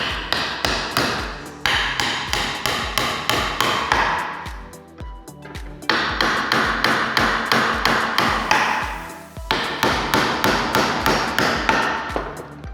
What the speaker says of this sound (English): then I can just finish nailing that in.